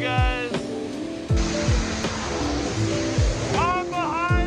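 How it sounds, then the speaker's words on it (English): Little Marshall Falls waterfall roaring steadily, heard from behind the falling water, a loud broad rush throughout with a person talking over it. "We're going behind the waterfall"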